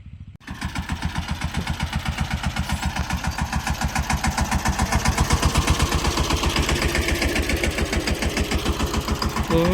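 A farm tractor loaded with groundnut seed and fertilizer for sowing starts up and settles into a loud, close, fast, even chugging that continues throughout.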